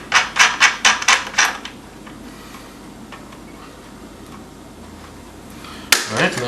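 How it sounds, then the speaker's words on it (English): Nut being screwed onto a bolt through a washer on model railway benchwork, starting with a quick run of about seven close, rhythmic ticking clicks, then quiet handling and a sharper knock near the end. "Push it through, put a washer on, and find your bolts or your nuts, screw one on."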